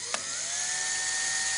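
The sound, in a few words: drilling holes in wheelie bin with 2mm drill bit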